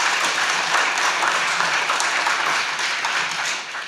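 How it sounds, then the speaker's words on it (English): An audience at a regional prosperity summit gives a big round of applause, dense continuous clapping from a crowd that holds steady before tapering slightly at the end. "The institution, big round of applause."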